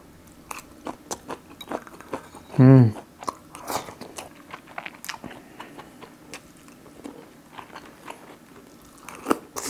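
Crunchy shishito peppers are bitten and chewed close up: a run of crisp, irregular crunches and clicks over about ten seconds, with one short hummed vocal sound partway through.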